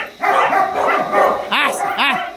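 A young dog barks in short, sharp yips several times close by during a training session, with a person's voice heard around the barks.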